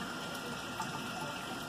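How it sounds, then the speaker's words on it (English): A small pump circulates water through a 100-foot coil of half-inch PEX tubing in a solar water heater tank for fish tanks, giving a faint, steady whirring rush with a thin constant tone. "So the water circulates through there and takes the heat out of it to heat the fish tanks."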